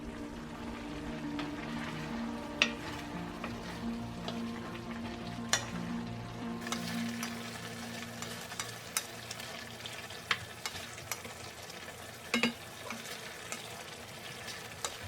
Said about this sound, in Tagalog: ilagay na natin ang bell pepper, asin, at haluin ng mga 3 hanggang 5 minuto pa